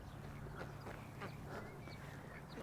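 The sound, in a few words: ducks quacking at a pond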